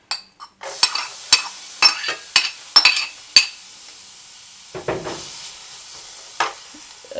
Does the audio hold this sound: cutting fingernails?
no